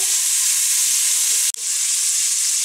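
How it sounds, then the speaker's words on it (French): Bacon lardons sizzling in a pan for coq au vin, a steady close broadband frying hiss that cuts out for an instant partway through, then resumes. "les lardons, ils commencent à frire"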